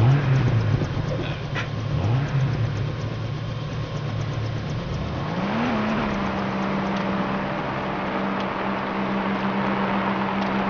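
A vehicle drives along a road in the video game LEGO Jurassic World, its steady engine hum rising in pitch as it revs up about halfway through, then holding a higher drone over background game ambience.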